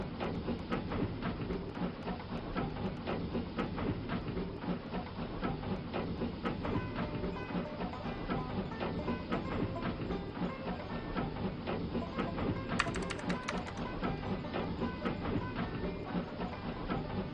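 A steady rolling rumble of an amusement park ride train moving along rails at Magic Land, with constant hiss and rattling, continuous and even for the whole stretch.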